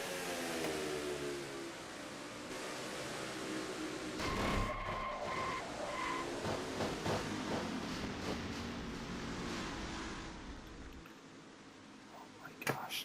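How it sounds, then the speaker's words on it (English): A racing truck in a NASCAR-style truck series video game crashes and skids, with engine roar, a sudden burst of impact noise and scraping in the middle, then fading engines, under race commentary. "A bad crash by the 33 truck."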